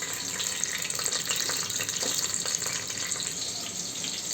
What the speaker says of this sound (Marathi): आता फ्लॉवर, ह्या सगळ्या भाज्या थोड्या फ्राय करून घेते